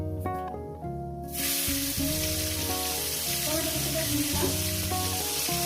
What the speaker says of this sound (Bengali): টমেটো কুচিটা ভেজে নিয়ে নিলাম এক মিনিট একটু ভেজে নেবেন